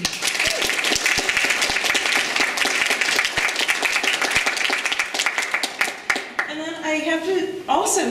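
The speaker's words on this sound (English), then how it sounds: "And Sarah, we all owe a huge round of applause to you for doing this." An audience at an academic lecture on cosmopolitan conceptions in Dubai applauds loudly and steadily, a dense wash of clapping that thins near the end as a voice begins speaking over it.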